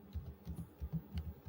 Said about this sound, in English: Here I am typing in search box